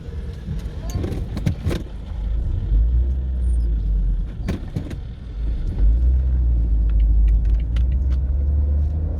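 A car drives along with a steady low engine and road rumble throughout, heard from inside the cabin, while someone talks over it.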